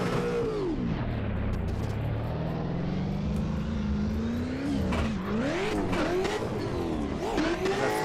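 An 800-horsepower Corvette drifting around a track in the Assetto Corsa racing game, its engine revving hard and continuously with pitch rising and falling through the slides, loud and alone.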